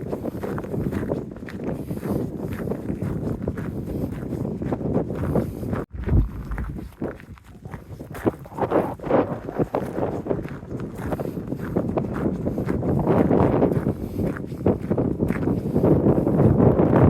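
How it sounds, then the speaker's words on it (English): Gusty wind rumbles and buffets the microphone continuously, rising and falling in strength, with faint outdoor movement underneath, high on a hilltop edge in the Peak District. "It's quite windy up here."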